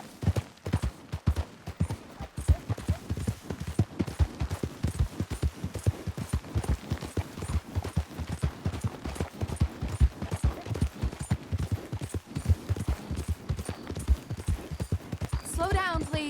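Horse hooves gallop in a fast, even clip-clop rhythm for the whole stretch in Red Dead Redemption 2. Near the end the horse gives a brief whinny, and distant talk sits under the hoofbeats.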